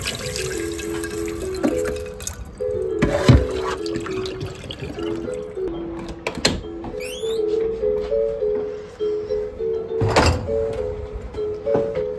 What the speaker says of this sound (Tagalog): Kaya dapat panlawan mo muna dito.